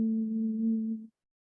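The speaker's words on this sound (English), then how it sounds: "the whole exhale is going to be a hum." Steady, even hum on a long exhale during bumblebee breathing, a single sustained voiced tone lasting about a second before stopping abruptly into silence; no talking.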